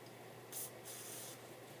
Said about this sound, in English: spray out the extra Loctite